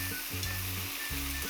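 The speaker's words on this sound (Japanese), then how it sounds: "ちょっと鍋振って野菜とうどんをしっかり合わせる" Udon noodles and vegetables stir-fried in a pan for yakiudon, with a steady close sizzle and rhythmic stirring and tossing sounds, and no talking.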